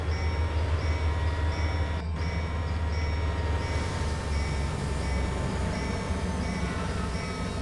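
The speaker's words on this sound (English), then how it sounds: "we have the CSX passing in front of us" A CSX freight train passes in Trainz Railroad Simulator 2022, a steady loud rumble of rolling wagons with a low drone and faint high whine running the whole time, with no talk over it.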